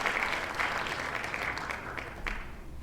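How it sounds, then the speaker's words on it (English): A downloaded recording of crowd noise, with people cheering and clapping, gives a dense, continuous wash of applause and a few louder claps, steady and fairly loud, with no voices standing out. "I downloaded a file of random crowd noise and people"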